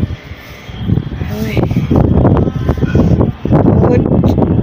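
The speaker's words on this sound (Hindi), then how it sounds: "अभी हवा की बहुत आवाज़ आ रही होगी आपको, तो इसलिए मुझे ऊंचा बोलना पड़ रहा है लाउडली" Strong gusts of wind buffet the microphone outdoors in a roaring, rumbling rush beneath a person speaking loudly over it.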